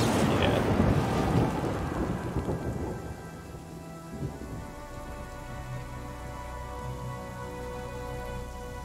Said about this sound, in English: The villager is interrupted by a deafening clap of thunder, as a bolt of lightning cracks down